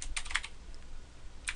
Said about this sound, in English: Let's go ahead and type this out like we would be typing a sum function in Excel.